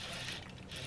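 Quick ratcheting clicks from a fishing reel's loosely set drag as a bass pulls line off at a large lake jetty, a short, steady mechanical burst with no voices.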